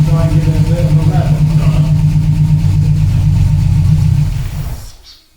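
A TVR 290 S engine, running on an MS2 management system with a TFI ignition module, idles roughly and loud up close with a low, uneven rumble, then quickly dies away to near silence.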